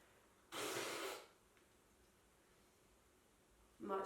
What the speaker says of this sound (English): And again, blow the nose.